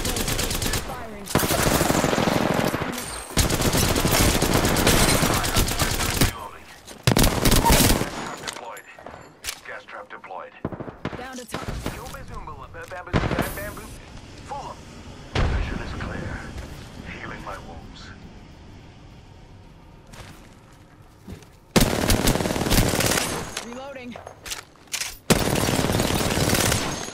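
Automatic gunfire in the shooter game Apex Legends, loud rapid bursts broken by pauses and quieter stretches, with in-game voice lines and player talk scattered among the shots.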